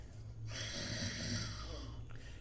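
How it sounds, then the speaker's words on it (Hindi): A single drawn-out nasal snoring sound made as a breathing exercise, a rough, rattling inhale through the nose held for about a second and a half, fairly quiet and close. "नाक से खर्राटे लेने हैं।"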